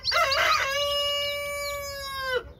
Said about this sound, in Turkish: Bu çok güzel bir horoz